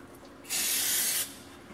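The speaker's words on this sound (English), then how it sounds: "All we need to do is clean them up with a little bit of brake cleaner" Brake cleaner sprayed onto new brake shoes in a garage, a single short, loud aerosol burst of under a second against a quiet background.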